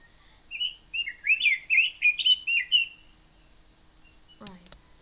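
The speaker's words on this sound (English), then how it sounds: "So when the voice come out, the mouth of my bird also moves" Cartoon bird's voice played from a clip in Cartoon Animator, a quick series of bright, close chirps and tweets lasting a few seconds, ending with a short clicking burst.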